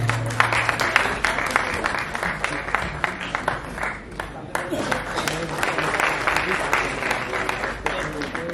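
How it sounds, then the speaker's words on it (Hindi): Loud, sustained audience applause from a crowd at a Hindi talk event with a film director, a dense wash of clapping lasting several seconds with voices mixed in. "जोरदार तालियों की गड़गड़ाहट हो जाए दोस्तों"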